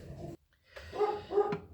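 An indoor dog gives a few short barks and gruff, whimpering vocalizations at close range, separated by a brief pause.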